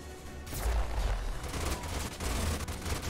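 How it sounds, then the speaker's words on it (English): Enemy gunfire in the sci-fi strategy game Age of Wonders: Planetfall, a rapid rattling volley of shots with low booms, moderately loud and continuous for a few seconds. "These guys are gonna get to shoot my guy."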